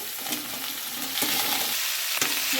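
Lentils and greens frying in a pan are stirred with a loud, close sizzle, broken by quick scraping strokes and one sharp clack near the end.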